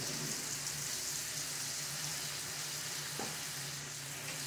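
Onion and beef liver frying in a pan, a steady low sizzle with faint scraping as a spatula stirs, soft and close, with one brief knock partway through and a low background hum.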